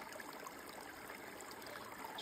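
A small woodland stream trickles softly and steadily in a quiet forest, a faint continuous babble of water with no talking.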